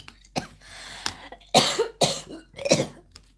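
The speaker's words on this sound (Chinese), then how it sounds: "不好意思，咳嗽了一下" A short series of coughs from choking on saliva, about five sharp bursts spaced irregularly, close and fairly loud, with quiet pauses between them.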